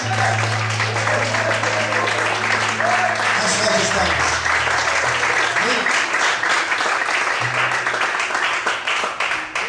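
Church congregation applauding during an evening sermon, sustained dense clapping from many hands, loud and continuous, with a voice and background tones underneath.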